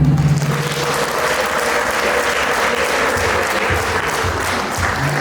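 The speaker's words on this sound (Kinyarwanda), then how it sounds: "tugushimire tugwa amashyi y'impundu" Loud, dense applause from a wedding crowd fills the whole stretch, steady and close, with many hands clapping at once.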